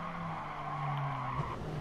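Sustained tonal squeal of tires as a car slides and skids in the racing video game Gran Turismo Sport, a steady screech over engine hum lasting under two seconds with no voices.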